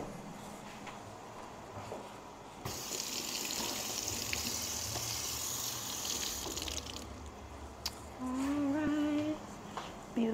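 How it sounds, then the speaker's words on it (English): A kitchen tap runs for a few seconds as a lemon is rinsed, a steady hiss of water that stops abruptly, followed by quieter handling sounds. "let me wash off my little lemon"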